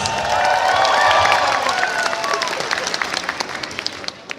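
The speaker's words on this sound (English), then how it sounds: "For another round of applause." A crowd applauding, clapping loud at first and then thinning into scattered claps as it fades.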